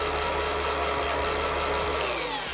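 A car polishing pad agitated inside a Lake Country pad washer set to speed 6: a constant, close, loud motorized whir with faint rubbing pulses underneath.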